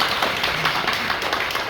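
A church congregation claps in thanks to a visiting professor after a sermon, a dense, continuous wash of many hands close and even throughout, with no talking.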